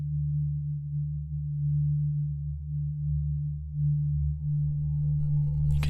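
Omnisphere granular synth patch droning as a steady low tone, gradually gaining brighter upper texture as the grain position slider shifts, ending in a sudden bright burst; fairly quiet and alone.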